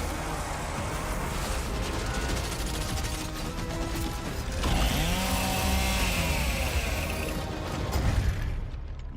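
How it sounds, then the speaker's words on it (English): The Chainsaw Lancer in the video game Gears of War: E-Day revs in a dense, grinding mechanical roar with ratcheting surges and clattering impacts. It is loud and continuous throughout, with a brief whining rise midway. "The creation of the Chainsaw Lancer is another origin story from lore that we wanted to show in E-Day."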